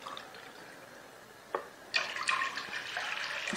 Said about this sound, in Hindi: 2 कप पानी,